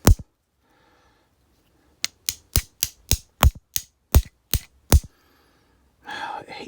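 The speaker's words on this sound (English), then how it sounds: "I'm gonna hammer you home." Close metallic taps from a hammer driving a trigger pin into a Taurus G3 pistol, nine sharp evenly spaced strikes after a single opening knock, ending with a short rustle.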